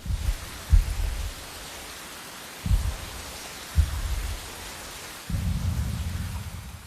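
Heavy rain pours steadily in a scene from the 1998 Godzilla film while deep thunder rumbles in several low bursts, the last one swelling and holding to the end.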